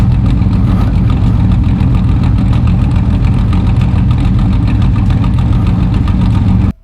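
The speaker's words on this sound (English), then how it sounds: "Exhaust note is glorious, and at idle, to be honest, it sounds virtually like a big block American V8" A Kawasaki Z1300 six-cylinder motorcycle engine idles close by with a deep, even, throbbing exhaust note that holds steady and then cuts off abruptly at the end.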